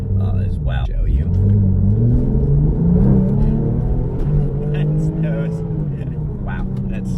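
A Porsche 911 Turbo with a Cobb Stage 2 tune accelerates hard, its engine note climbing steadily in pitch over a deep, constant rumble, loud and close throughout.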